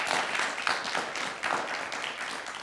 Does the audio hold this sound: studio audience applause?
yes